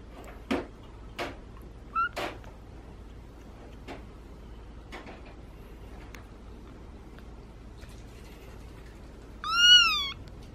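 A rescued kitten gives a few faint, high meows spaced apart, then one louder, drawn-out meow near the end, over a quiet room with no talking.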